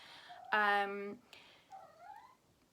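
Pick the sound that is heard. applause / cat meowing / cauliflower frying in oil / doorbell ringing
cat meowing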